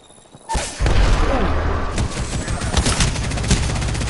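Gunfire from a video game shooter erupts after a brief quiet lead-in into a loud, dense burst of rapid shots and booming blasts, then continues as repeated volleys of firing and impacts.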